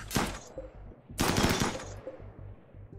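Gunfire in RimWorld combat, two quick bursts of rapid shots about a second apart, punchy and close, with faint lighter pops in between.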